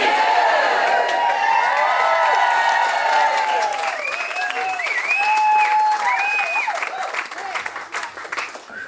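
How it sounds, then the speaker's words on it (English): Guests at a wedding ceremony clap and cheer loudly together, with whoops and high shouts rising over sustained applause that fades slightly toward the end. "So, loudly and clearly with the optional cheer, do you all freely give your support to Juli"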